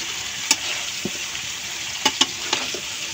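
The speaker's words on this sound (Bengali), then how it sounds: "প্রথমে লবণ মশলাটা কষাইছি" Salt and spices frying in oil for mango pickle, a steady close sizzle broken by a few sharp stirring clicks against the pan, with no voices.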